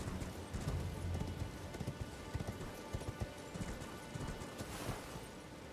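Horse hooves gallop in the Elden Ring video game, a steady rapid clatter of hoofbeats running throughout at moderate loudness over a rough, noisy game soundscape.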